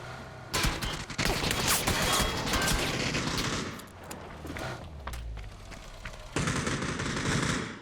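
PUBG gameplay gunfire crackles in loud bursts of rapid automatic shots, with a quieter gap in the middle before another sharp volley at the end.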